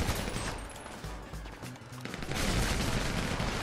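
Gunfire erupts in GTA V online multiplayer, dense overlapping bursts and shots rattling continuously with a heavier volley near the end, loud and close.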